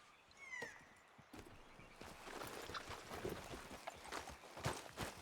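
Horse hooves clip-clop in a steady walking rhythm in Red Dead Redemption, fairly quiet and close, with a brief whinny near the start and game ambience underneath.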